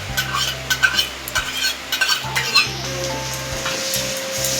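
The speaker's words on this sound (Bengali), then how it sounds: "আদা রসুন বাটাটা দিয়ে একটুখানি ভাজা ভাজা করব।" Ginger-garlic paste frying with browned onions in a pan, a soft steady sizzle broken by a few sharp scrapes and stirs of a utensil against the metal, close and without voices.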